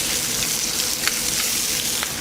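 Chopped shallot sizzles and fries in a hot pan with chicken cooking, a loud, dense crackle with scattered sharp pops over a steady hiss, no talking.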